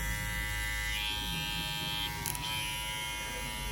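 A JRL hair clipper fitted with a staggered tooth blade buzzes steadily and close by, a constant electric hum that briefly shifts in pitch as it works.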